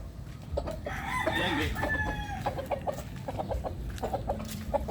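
Chickens and chicks on a farm at afternoon feeding time: a rooster crows near the start, then hens cluck and chicks peep in short scattered bursts at moderate distance, fairly faint overall.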